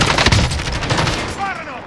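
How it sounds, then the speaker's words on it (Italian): Bursts of gunfire from Call of Duty Warzone crack loudly in quick succession through a short battle moment, with a voice barely present. "Oh, t'hanno sparato da sinistra, mi sa."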